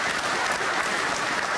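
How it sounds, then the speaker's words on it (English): Studio audience applauding at a motorsport television show, a dense, even wash of many hands clapping that holds steady throughout, with no voices. "I'd also like to keep that applause going"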